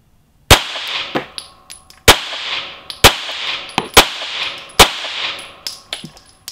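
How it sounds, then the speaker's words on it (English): Glock 19M and 17M 9mm pistols fire at a small box target backed by a bullet trap outdoors, with about six sharp, loud reports spaced roughly a second apart, each trailed by a metallic ring and followed by fainter clinks between shots. "We're just shooting at that little box down there with a bullet trap behind it"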